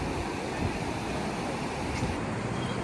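Continuous broad roar of sea surf washing on a beach, steady and fairly loud, with wind rushing across the microphone.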